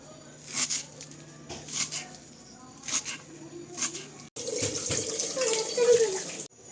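Water runs from a kitchen tap while freshly chopped coriander is rinsed, starting as a light intermittent trickle and then becoming a steady, louder splashing stream before cutting off, with someone speaking over it.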